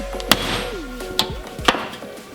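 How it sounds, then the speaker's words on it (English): A hammer strikes a metal test piece for a Ford RS200 panel rebuild, three sharp separate knocks close by, with a faint gliding tonal hum between them. "And then we're going to knock a dent in there"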